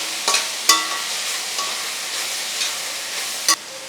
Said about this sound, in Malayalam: സ്പ്രിംഗ് ഒനിയൻ ഇട്ടിട്ട് ജസ്റ്റ് ഒന്ന് ഇളക്കിയാൽ മതി.